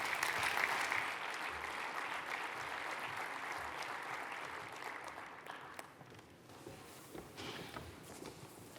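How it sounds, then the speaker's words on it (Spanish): Audience applause at a pricing round-table at the AUSAPE 2019 forum as panelists walk onto the stage, a fairly quiet, even clapping that thins toward the end with a few scattered claps. "Un fuerte aplauso para ellos al escenario."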